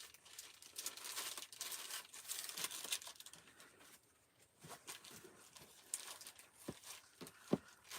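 A plastic bag being handled and crinkled, with bursts of dry rustling and crackling up close, then a quieter pause and a few sharper rustles and taps, without talk.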